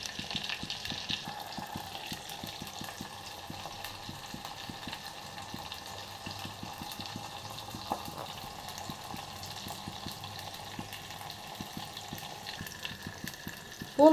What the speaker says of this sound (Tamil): இதெல்லாம் போட்டு நல்லா வதங்கட்டும்.